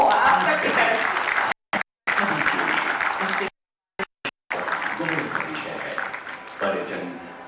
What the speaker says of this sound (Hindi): माउस बटन दबाकर तालियां हो आप सबकी तरफ से।